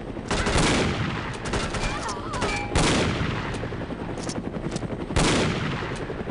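Submachine gun fire in No One Lives Forever: loud, sustained automatic bursts with hard onsets and dense rapid shots, running nearly continuously with brief pauses between volleys.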